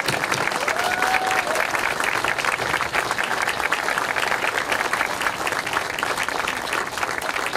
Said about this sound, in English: Can we all have a applause for Woody Frazier